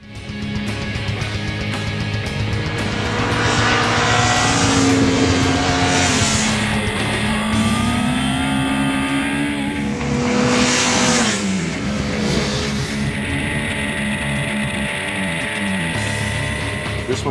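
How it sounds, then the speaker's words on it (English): Japanese liter-class sport bikes, including a Honda CBR1000RR, Kawasaki ZX-10R, Suzuki GSX-R1000 and a cross-plane Yamaha YZF-R1, ridden on a twisty road. Engines roar loud and near, revving up and down through gear changes, with steady wind rush throughout. "which has this cross-plane firing order, Big Bang they call it. And it creates a great noise"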